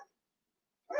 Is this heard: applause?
no